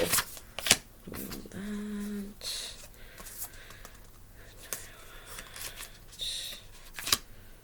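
Tarot cards being shuffled and handled up close, soft riffling bursts with a few sharp snaps, quiet and separated by pauses with faint background tones.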